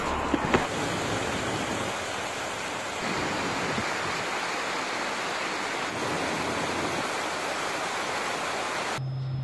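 The Avançon river flows along the valley bottom, a steady broadband rush of water heard close and unbroken, with a brief knock near the start.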